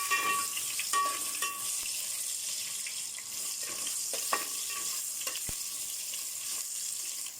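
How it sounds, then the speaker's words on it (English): Mushrooms fry in a pan with a soft, steady sizzle and a few light clicks and scrapes of a utensil, close and fairly quiet, with no speech. "Cook it till mushroom"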